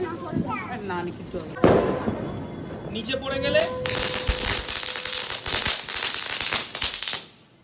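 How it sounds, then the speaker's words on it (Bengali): Firecrackers going off on a rooftop during Diwali: one sharp bang, then a loud, sustained crackling barrage. Voices can be heard in the first seconds before the crackle takes over. "বাজি পোড়াতে গিয়ে বাজিটা কিন্তু খুব বাজেভাবে ফেটেছিল"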